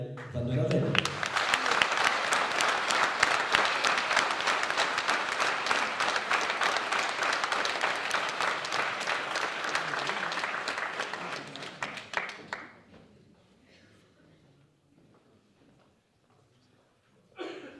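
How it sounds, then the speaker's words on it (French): An audience applauds a numbered candidate loudly for about twelve seconds, dense steady clapping that fades out, leaving near-quiet before a voice briefly returns. "je vous demande d'applaudir le candidat numéro 19, M. Daniel Van Denaven."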